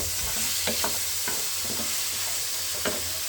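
Chicken being stirred in a cooking pan, a continuous frying hiss with intermittent scraping strokes of a spoon, close up and without any voices.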